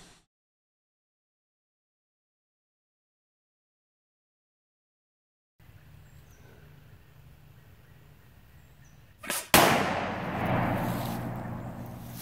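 An exploding blow gun dart fitted with a rimfire primer goes off outdoors in a backyard, a single sharp blast that breaks a long quiet stretch and leaves a rumbling, noisy tail.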